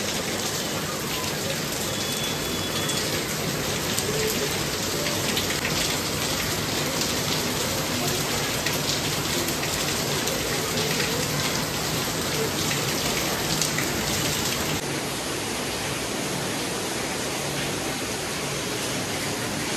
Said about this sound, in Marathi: तर हा पाऊस मी दाखवते ना